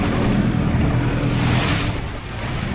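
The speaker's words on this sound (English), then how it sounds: "Oh, these waves are getting really, really big now." Big ocean waves surge and roar around a wooden fishing hut built on stilts above the sea, a loud, continuous wash mixed with wind buffeting the microphone.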